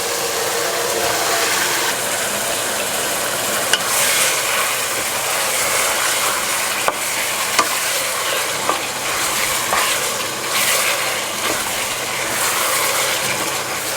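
Meat frying in a pot of spice paste for Bangladeshi tehari, with a steady close sizzle and intermittent scraping and stirring clinks from a spoon against the pan.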